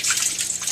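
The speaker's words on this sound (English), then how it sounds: "And as you can see, the more water I put in, the louder the sound." Distilled water poured into a crystal mister, a short close trickle with bright dripping splashes, heard alone.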